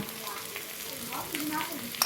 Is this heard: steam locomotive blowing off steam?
no